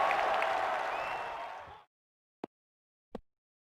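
A cricket crowd at an India v Australia Test match applauds a batsman in a sustained round of clapping that fades out, followed by silence and two isolated claps.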